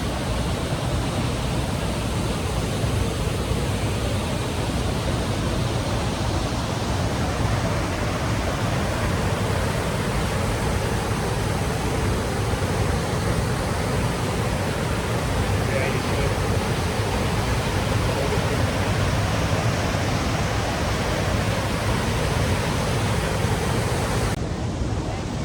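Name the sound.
waterfall in Olympic National Park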